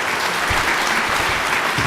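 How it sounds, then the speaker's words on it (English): Steady, dense applause from a conference audience for the first panel as it wraps up, a continuous wash of many hands clapping with no speech over it. "If we can please give a big round of applause to our first panelists."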